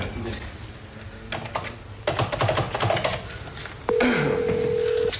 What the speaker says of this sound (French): je compose un numéro.